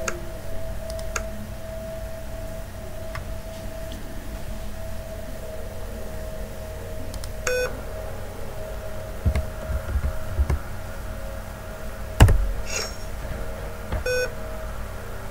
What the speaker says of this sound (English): Sorry about all that beeping, it's just my computer.